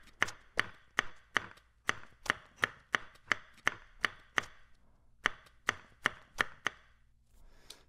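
Layered foley hits built in the Reformer Pro plugin: a series of about twenty sharp, dry, chopping-like impacts in an uneven rhythm, close and clear, with a short pause midway and no talk.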